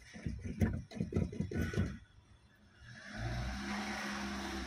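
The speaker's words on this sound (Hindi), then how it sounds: "अब गाड़ी को स्टार्ट करने के बाद, ये मैंने गाड़ी को स्टार्ट किया" Someone talks first. Then the engine of a Hyundai i10 1.1 with a rough, fluctuating idle settles into a low, steady running hum after starting, heard alone and fairly close.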